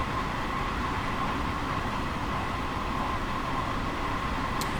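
A train runs in a train simulator video game with a steady, continuous rumble and hiss of wheels and motion, even in level throughout and with no speech.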